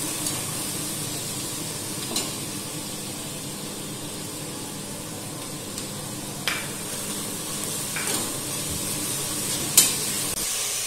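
Chopped onion with coriander and mint leaves sizzles in a pan, making a steady, fairly soft hiss punctuated by a few sharp scraping stirs.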